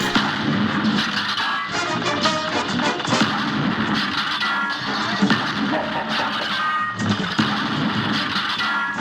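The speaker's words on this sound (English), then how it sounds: "Once destroyed, it will send homing missiles towards you." Homing missiles and explosions during a Cuphead boss fight against the Automaton: dense, continuous game audio with repeated bangs, blasts and whooshing effects layered over music, loud throughout, with no talking.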